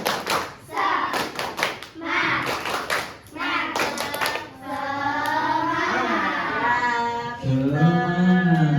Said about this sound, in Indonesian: Ayo, gimana tepuk semangatnya?